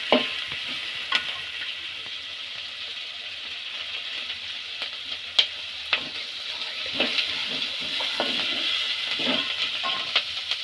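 Chopped carrot and onion pieces sizzling in oil in a pan for upma, a constant close hiss broken by repeated stirring scrapes and light clinks, no one speaking.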